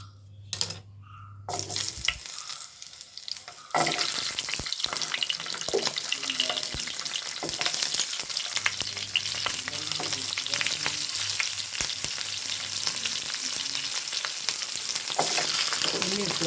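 Small onions (shallots) dropped into a hot pan for a wheat dosa chutney, a loud continuous sizzle and crackle after a brief quiet start, with occasional stirring clicks throughout.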